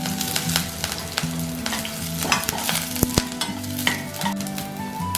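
Curry leaves, green chilli, ginger, dried red chilli and urad dal sizzle and crackle steadily in hot oil, with a spoon stirring and scraping the pan throughout.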